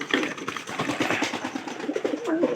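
Pigeons coo in a house coop, with soft throaty rolling calls repeated through the moment over some low rustling, close by and moderately loud.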